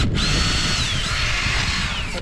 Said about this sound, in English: You're just going to drill that straight in, bub.